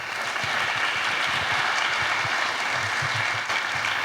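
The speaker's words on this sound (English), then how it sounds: "So let's give her a round of applause." A college orientation crowd claps steadily for several seconds, a dense, even wash of applause from a sizable audience indoors, with no speech over it.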